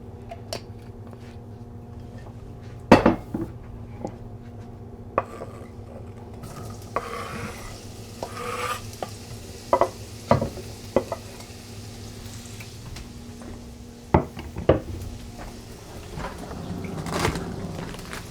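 Diced onions and peppers fry in a pan as a spoon stirs and scrapes them, giving a low sizzle punctuated by sharp clanks and knocks, close and without talk.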